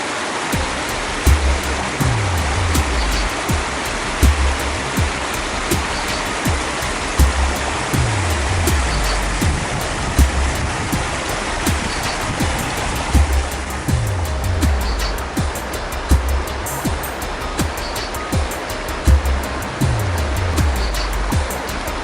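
Mountain waterfall and stream in the Aigüestortes high valley, a loud continuous rushing roar of falling water with no voices, broken by scattered low thumps from nearby movement.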